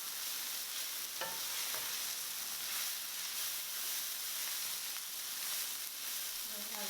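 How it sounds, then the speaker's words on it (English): Garlic fries in oil in a pan over lowered heat for a vegan broccoli slaw fried rice, giving a continuous bright sizzle with a few soft stirring knocks and scrapes, no talking. "Now it's time to add the garlic and cook it for another minute. Stir it."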